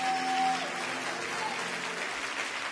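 A church congregation at a sermon by preacher Yvan Castanou breaks into sustained, dense applause, steady and fairly distant, with some voices mingling in.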